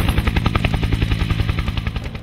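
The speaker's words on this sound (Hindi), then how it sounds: "दो ब्लैक हॉक हेलीकॉप्टर्स ने जलालाबाद हवाई ठिकाने से एबटाबाद अहाते के लिए उड़ान भरी।" Two Black Hawk helicopters flying to Abbottabad beat out a rapid, steady rotor thump, a loud pulsing throb that carries on without pause and with no voices.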